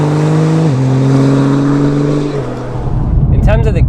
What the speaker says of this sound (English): I've got it in Sport Plus and the gear changes are really crisp, fast, and the downshifts are really sharp and accurate.